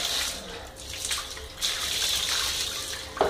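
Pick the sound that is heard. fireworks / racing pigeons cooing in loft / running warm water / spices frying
running warm water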